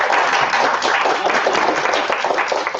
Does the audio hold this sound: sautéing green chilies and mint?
no